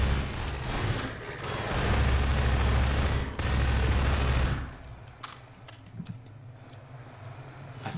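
Video game turrets unleash a sustained, loud stream of rapid automatic fire for several seconds, then it drops away to scattered faint shots and clicks.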